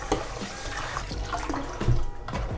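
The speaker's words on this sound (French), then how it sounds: "Alors, il vous faudra rincer 3 fois votre riz." Cold tap water runs and splashes over Japanese rice as it is rinsed by hand, a steady close wash with a brief louder slosh near the end and no talking.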